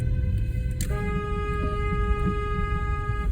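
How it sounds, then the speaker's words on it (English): A car horn sounds in snowy winter traffic: a sharp burst near the start, then a sustained tonal honk held for about two and a half seconds over steady engine and road rumble. "That's what I do when people beep at me. You hear that?"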